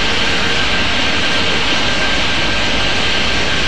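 Jet airliner engines roar steadily in the Airport Madness 3D airport game, a loud, continuous broadband drone with a faint high whine, with no talk over it.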